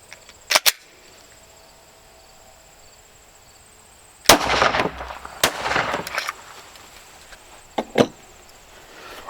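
Gunshots from a custom dual mag release Glock 21 pistol fired into a safety vest: two sharp reports early, then a louder cluster of close, echoing shots with ringing decay, and another pair near the end.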